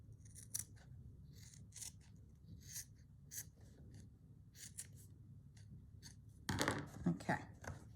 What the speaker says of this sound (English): I'm going to just cut straight through there